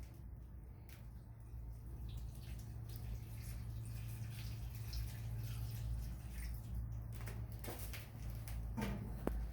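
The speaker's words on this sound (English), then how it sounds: "we're going to cover the asparagus with some fresh water" Water pours and splashes steadily into a skillet of asparagus over a hearth fire, a soft continuous trickle with scattered drips, fairly quiet.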